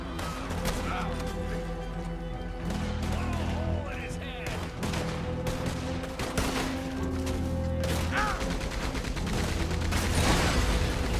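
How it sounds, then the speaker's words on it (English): Rapid sustained gunfire from a Gatling gun in the Western video game Red Dead Redemption 2, loud and dense throughout, mixed with explosions, crashes and game music, with shouted voices over the battle. "Get on that Gatling gun,"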